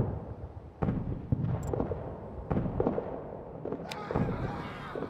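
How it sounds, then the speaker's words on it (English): Artillery fire in a WWI trench warfare video game: repeated sharp booming blasts, some near and loud, others more distant, landing at irregular intervals over a constant rumbling battlefield din. "They're actually being quite badly battered by my artillery"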